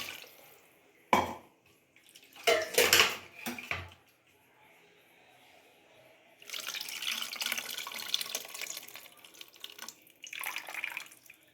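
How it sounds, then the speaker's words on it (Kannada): Water poured into a mixer jar holding leftover tomato comes as short splashing bursts, then a quiet gap, then a longer, steady, close gush of running and sloshing water. "ಮಿಕ್ಸಿ ಜಾರ್ನಲ್ಲಿ ಟೊಮೆಟೊ ಹಾಗೆ ಉಳಿದಿತ್ತು ಅದಕ್ಕೂ ಒಂದು ಸ್ವಲ್ಪ ನೀರು ಹಾಕಿ ಹಾಕ್ತಾ ಇದ್ದೀನಿ"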